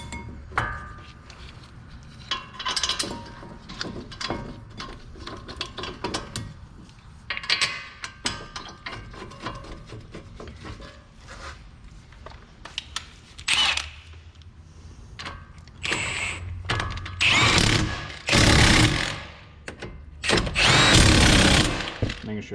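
Power tool work on a 2016 Jeep Renegade front brake, fastening the caliper mounting bracket bolts: scattered clicks and mechanical rattles build to several loud close whirring bursts near the end, with no voices.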